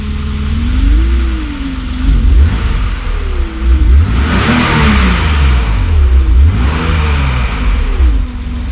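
A BMW E36 M3 with the S52 engine, run again after more than ten years of sitting in a shop, revs up and down in repeated loud swells over a rough idle, close by.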